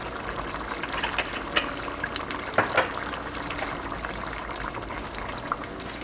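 Habanero peppers with allspice and garlic powder fry in a pot, giving a steady crackling sizzle with a few sharper pops and spits; no voices.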